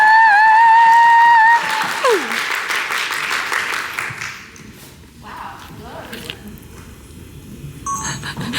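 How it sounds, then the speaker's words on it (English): Audience applause at MCM Comic Con 2023 for authors Cassandra Clare and Alice Chow, rising after a brief tone and thinning out, with scattered claps and quiet murmurs toward the end. "please give the biggest round of applause to Cassandra, Clare and Alice Chow"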